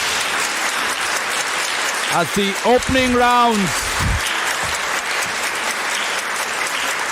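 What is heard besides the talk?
applause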